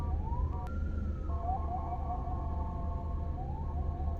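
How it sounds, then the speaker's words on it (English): Ambulance siren wailing on a street near Songkhla Old Town, a steady rising and falling tone heard at moderate distance over continuous low traffic rumble. "Ambulance."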